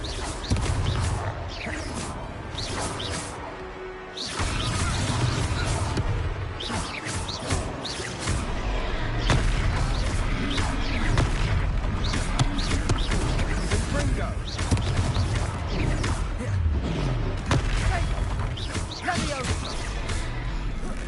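Spell blasts and impacts from the Confringo fire spell in Hogwarts Legacy on PS5, a run of sharp crashes and bursts amid combat clatter and game music, with character voices calling out over the action.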